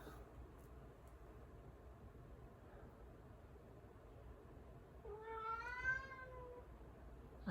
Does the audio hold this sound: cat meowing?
yes